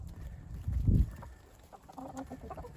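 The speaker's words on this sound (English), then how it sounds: "Look how pretty that rooster is." A free-ranging rooster gives low, soft clucks nearby, with a louder cluck near the start and quieter calls afterwards.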